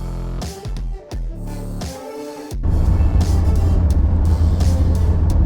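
A van with a big block engine drives hard through corners; after a short stretch of mixed noise, a loud, steady low engine drone takes over and holds close and continuous to the end.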